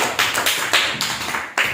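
A short burst of rhythmic clapping, a few hands patting in quick uneven beats, fairly close and sustained throughout, in a classroom.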